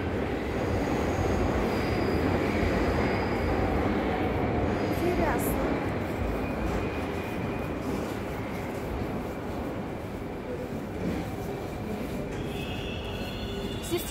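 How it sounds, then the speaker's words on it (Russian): A Moscow train runs with a steady, loud rolling roar and faint high wheel squeal, heard close from aboard or beside the track for the whole stretch. "Здесь космические поезда едут"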